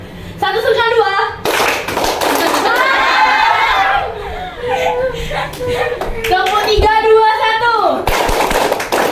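A school class clapping along in a counted rhythm, bursts of many children's claps alternating with a teacher calling out the count and children's voices, loud and close in a lively room.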